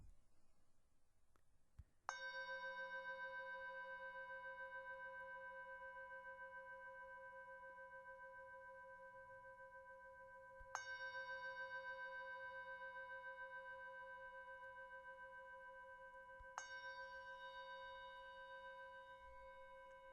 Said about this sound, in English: Bringing our attention now to the sound of the bell.